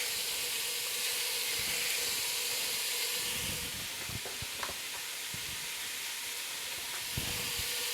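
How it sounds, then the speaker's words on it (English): Ground beef browning in a pot while seafood-stuffed bell peppers are made, a steady hiss and sizzle with scattered crackles and a few scraping thuds as the meat is crumbled. "we're going to brown our ground beef"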